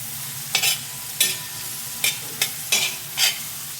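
Finely chopped capsicum frying in a pan for pav bhaji: about six sharp bursts of sizzle and spatula scraping, spaced unevenly over a quiet background hum, with no voices.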